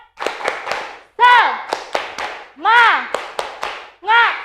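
Children in a classroom doing a rhythmic spirit clap, sharp patterned hand claps in groups interleaved with loud chanted shouts from the class.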